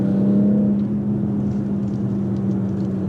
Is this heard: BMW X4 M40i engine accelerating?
yes